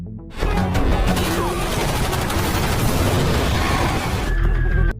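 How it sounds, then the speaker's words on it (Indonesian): Gunfire and a crash during a motorbike chase in an action film: a sudden loud burst of shots, smashing and booming impacts that fills the clip, with a brief quieter moment at the start and end. "Terjadi aksi kejar-kejaran yang diwarnai baku tembak, yang membuat Zaid terpental dari motornya."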